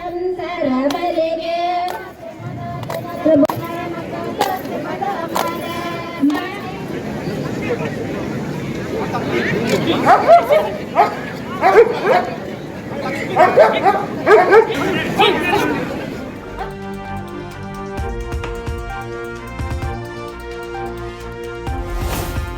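Several bomb squad sniffer dogs bark in short bursts during a show, amid crowd noise and a voice, followed by loud, continuous music at the end.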